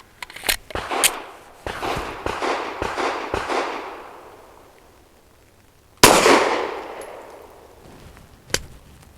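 A Saricam S-19 pistol fires SIG V-Crown Elite Defense 147 grain rounds at a range: a rapid string of sharp, loud close shots with ringing tails, a pause, then one more shot and a final crack.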